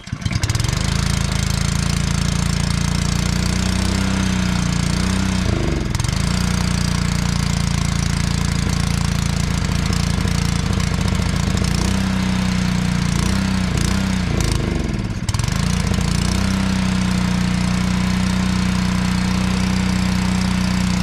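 A gas-engine water pump runs at a pond with a steady, loud mechanical drone, its engine note dipping briefly twice before holding its rhythm again.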